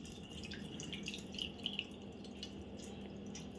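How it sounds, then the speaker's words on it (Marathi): Water is strained off boiled chana dal through a mesh sieve for puran poli, giving a faint, continuous trickle with scattered light drips. "आपण आता हे पाणी गाळून घेऊया"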